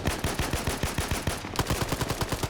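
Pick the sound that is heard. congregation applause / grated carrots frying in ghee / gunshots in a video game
gunshots in a video game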